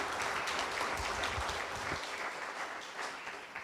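Applause from the audience at a book concert in Wonju, a steady, fairly distant patter of many hands that holds at an even level for several seconds.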